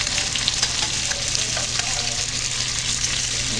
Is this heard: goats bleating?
no